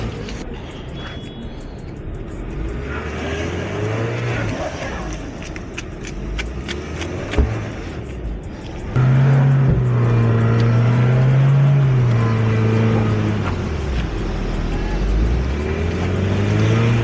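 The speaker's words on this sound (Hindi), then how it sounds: "पूरा ट्रैफिक देखो, लंबी लाइन है।" Cars idle and rev in a long, slow traffic queue on a snowy mountain road in Manali during fresh snowfall, with a steady engine drone that swells louder partway through and rising, falling rev tones close by.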